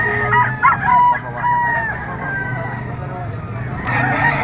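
Rooster crowing at a dawn poultry market in Padre Garcia, Batangas, where yellow-legged and white-legged gamefowl stags are sold; the drawn-out crow rises over market bustle, nearby voices and other birds.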